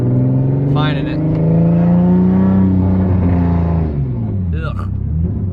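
A single-turbo Nissan 370Z engine revs and spools up, a loud rising and falling drone heard from inside the car with a faint turbo whistle and brief chirps of boost release.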